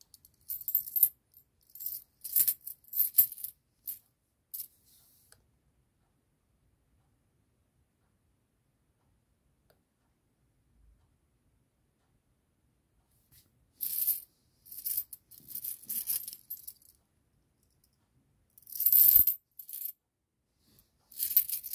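Old cleaned brass 10 won coins from 1970 clink and rattle against one another in short bright clusters, close and crisp, separated by long stretches of silence.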